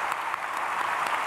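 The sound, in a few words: applause in church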